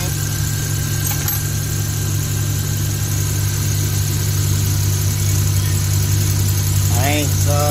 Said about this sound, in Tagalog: at umi-start na rin ang makina